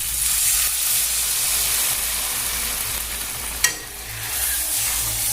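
Potatoes fry in a pan with a constant, bright, close sizzle, broken by a sharp scrape or tap of a stirring utensil partway through.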